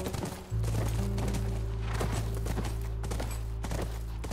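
Horse hooves clip-clop in a steady rhythm over a constant low droning background, with no talking, in The Last of Us Remastered.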